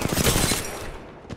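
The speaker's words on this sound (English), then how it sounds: "Shots fired and they're hitting me." Rapid bursts of gunfire from an Apex Legends firefight on the Broken Moon map, loud and dense for the first half, then thinning to scattered shots and a final late report.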